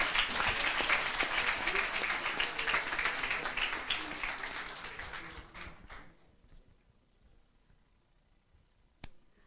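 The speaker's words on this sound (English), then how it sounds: "Can we give them a round of applause, please?" An audience at an entrepreneurship challenge event applauds loudly for several seconds, the clapping dense and sustained before fading away, leaving a near-quiet room with a faint murmur and one stray clap.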